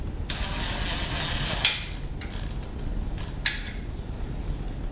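A ratchet zips in two quick, bright bursts near the microphone while the exhaust flange is tightened on a Harley-Davidson Iron883 fitted with Vance & Hines Mini Grenades, over a low background rumble.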